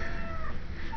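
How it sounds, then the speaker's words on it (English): A cat at an animal shelter gives a brief, plaintive meow, close and clear over a steady background hum, with no talk during the sound. "That's probably a kitten"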